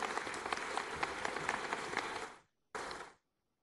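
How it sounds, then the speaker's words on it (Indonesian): Applause at a stock exchange listing ceremony for PT Putra Mandiri Jembar Tbk: a lively crowd clapping steadily and loudly, cutting off abruptly, then a brief final burst of clapping before silence. "Mari kita berikan tepuk tangan yang meriah."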